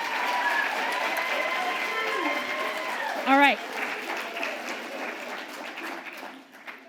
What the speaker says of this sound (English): one huge round of applause for our artists